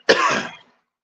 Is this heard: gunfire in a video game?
no